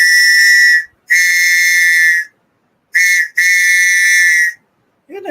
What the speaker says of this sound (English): do the whistle again